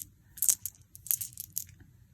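Faceted glass polygon beads in champagne, 16x12mm, jostled in a packet, giving sharp, glassy clicks and clatters in a few quick bursts, close up with quiet gaps between.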